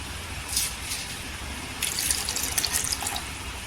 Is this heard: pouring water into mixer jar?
yes